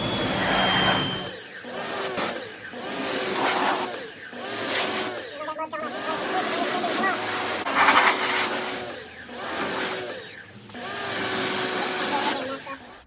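A Westinghouse pressure washer sprays a Yamaha YZ250X two-stroke dirt bike, its pump droning loudly in long bursts with brief pauses, the hissing jet shifting in tone as it strikes different parts of the bike.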